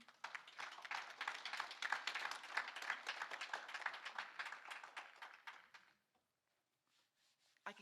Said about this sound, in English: give yourselves a round of applause for what you do